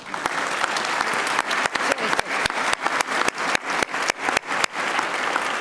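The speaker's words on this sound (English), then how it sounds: "I think we all owe him a huge round of applause." An audience at an Ohio workplace program launch applauds the governor, a loud dense round of clapping with distinct sharp claps standing out, sustained throughout.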